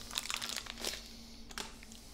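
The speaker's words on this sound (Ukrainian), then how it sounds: "Відкриваємо пакет з датчиком." Plastic bag holding a handheld nitrate sensor being opened indoors, giving a few quick close crinkles and rustles, with brief bursts near the start and again midway over a faint steady hum.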